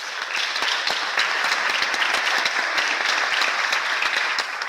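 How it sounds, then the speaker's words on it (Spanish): An audience at a Luis Buñuel tribute at the Ateneo de Madrid gives warm, sustained applause for Sagrario, dense clapping from a full room holding steady for several seconds. "y pido un aplauso para Sagrario."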